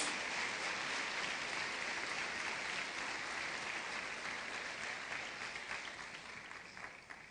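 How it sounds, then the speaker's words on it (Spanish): A church congregation gives a strong round of clapping as an offering to Jesus, a dense, loud, continuous roar of many hands that holds steady and then begins to taper near the end. "Den una ofrenda, hermano, de palmas fuerte al Señor Jesús."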